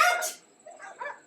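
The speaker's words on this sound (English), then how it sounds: "Those must be the farm dogs, protecting our goats and chickens." Farm dogs guarding goats and chickens bark in a short burst, a loud close yelp first, then a couple of softer barks a little farther off.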